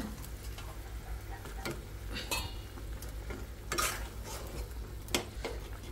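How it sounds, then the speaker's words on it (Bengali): Fish frying in a pan on a home stove, a steady sizzle with scattered clinks and scrapes of a utensil stirring against metal, close and continuous. "আমার এবার মাছটা দিয়ে দেওয়ার পালা।"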